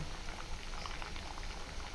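Potato curry gravy thickens and simmers in a pot with fried eggs added, giving a soft, continuous bubbling and crackling close by at low volume.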